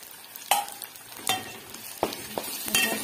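Spatula scraping a pan as masala, salt and peanuts are stirred together for a fresh pigeon pea amti, a few sharp scrapes and clinks over faint sizzling, close and quiet, no talk.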